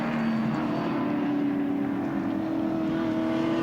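Touring cars race at Oran Park in 1986, a steady engine drone with a rising pitch as the cars pass, heard from a distance and continuous throughout.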